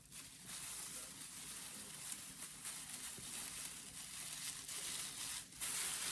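Scissors cut through the straw skirt of a Dollar Tree witch broom, a run of crisp snips and dry crunching rustles repeating at close range, fairly quiet throughout.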